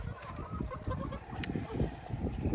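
Young hens cluck and murmur inside a chicken coop pen, a steady dense chorus of low, close clucking with no pauses and no talking over it.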